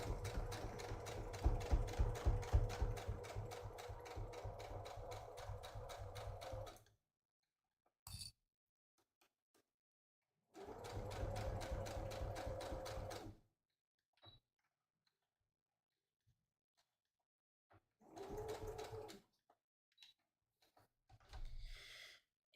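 Seams of a drawstring project bag go through a sewing machine in several separate bursts: a long rhythmic run, a shorter one, then brief spurts, with near silence between them.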